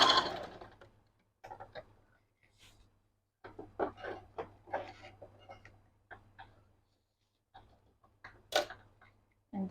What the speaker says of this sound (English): You just make sure that you backstitch to secure it.